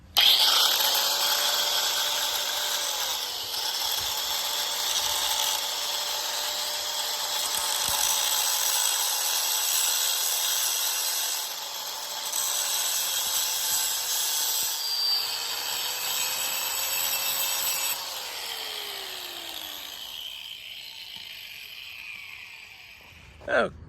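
An electric cut-off wheel grinds steadily into a pressed-on axle bearing sleeve at close range for about twenty seconds, a continuous high-pitched abrasive whine with slight pitch dips, ending abruptly.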